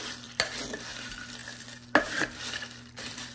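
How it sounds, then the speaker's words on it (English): A spoon stirs Chex mix and seasonings in a crockpot, giving a steady scraping rustle with a few sharper clinks against the pot, close and alone. "now you're gonna take your spoon and mix this all up"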